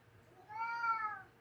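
A cat gives a single drawn-out, rising-and-falling meow, close by but fairly quiet, in an otherwise still room.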